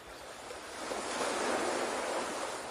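Ocean surf washes steadily against the shore, a broad hissing roar that swells gradually and holds, soft and continuous with a faint wind rush and no voices.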